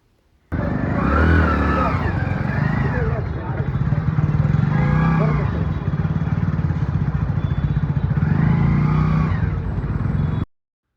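A new motorcycle is started and ridden around at a temple after a blessing, its engine droning steadily near the mic with rising revs, while voices chatter over it throughout.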